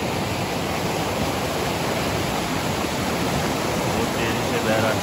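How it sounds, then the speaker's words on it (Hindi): A fast-flowing river at the edge of Kashmir rushes with a steady, dense roar of broadband water noise, loud and unbroken throughout, with no pauses or distinct events. "तो ये दरिया है,"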